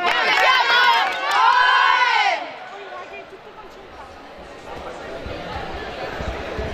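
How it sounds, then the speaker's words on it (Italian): Players of a volleyball team shout together in a loud, sustained rising team cry in a sports hall, then the cheer drops off into quieter hall noise and chatter. "Quello che avete sentito era l'urlo della formazione Bisson Gru Volley San Paolo Vicenza"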